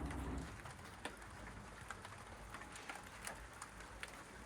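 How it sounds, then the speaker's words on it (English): Rain starting to fall outdoors at a house siding job site, a soft steady patter with scattered distinct drops tapping close by, no voices. "It's starting to rain"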